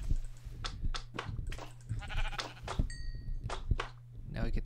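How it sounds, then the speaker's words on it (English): Sheep in Minecraft bleat repeatedly in short wavering calls over a steady low hum, with a few soft thuds and brief electronic tones mixed in. "Where's those sheep?"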